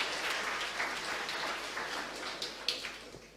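Audience applause for a keynote speaker at a startup pitch event in Sofia, a steady wash of clapping hands from a hall crowd, fairly faint and even, with a few sharper claps standing out near the end.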